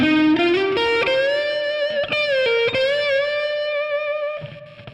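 Distorted electric guitar with effects plays a cascading solo part, a run of quick picked notes climbing to a sustained high string bend that rings loud and up close before fading.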